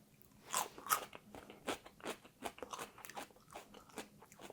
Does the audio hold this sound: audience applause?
no